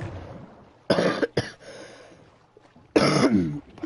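Three sharp coughs and throat clearings sound close up, two quick bursts near each other and a longer, raspier one after a quiet pause.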